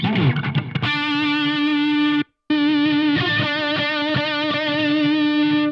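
Heavily distorted electric guitar chords through a Yamaha THR10X amp ring out loud and sustained, with a brief gap of silence before the crunchy amp tone resumes.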